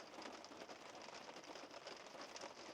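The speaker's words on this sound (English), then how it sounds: "Bits of rain. It's raining. It's raining." Steady rain falling in the Pyrenees, a soft, even hiss of drops with no pauses, fairly quiet and continuous throughout.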